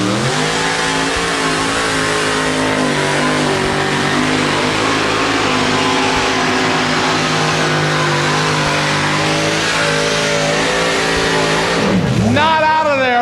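Bill Humphrey's pulling truck Spike, out of Hanoverton, Ohio, roars at a 1989 truck pull, its engine held at a loud, sustained high rev before a sharp drop and fresh surge near the end, with an announcer talking over it.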